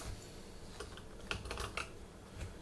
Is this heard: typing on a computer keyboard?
yes